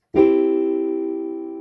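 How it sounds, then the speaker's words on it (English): A single piano major chord struck once, ringing clearly with a bright attack and slowly fading sustain, nothing else playing. "Majors sound like this"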